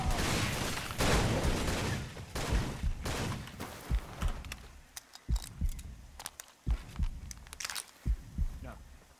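Gunfire rings out in Far Cry 2, a series of sharp separate shots, dense at first and then spaced irregularly, with a voice talking in between.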